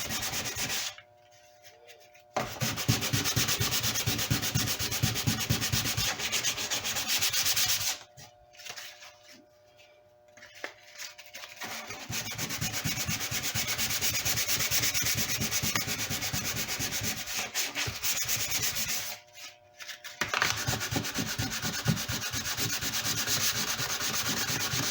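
Repeated rubbing strokes of sandpaper on a redwood guitar body, long scratchy passes broken by a few short pauses, close and fairly loud.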